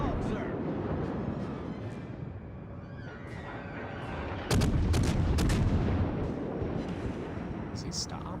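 Naval guns fire in the World of Warships game during a cruiser-versus-battleship fight. Loud booming salvos burst out near the middle over a constant rumble of battle noise, and several more sharp reports follow close together.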